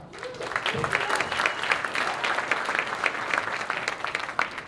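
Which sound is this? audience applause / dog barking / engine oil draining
audience applause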